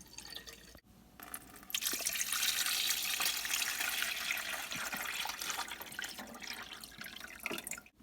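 Reverse osmosis water is poured into the reservoir of an Opal nugget ice maker. A short trickle builds into a steady, bright, splashing pour that continues for several seconds.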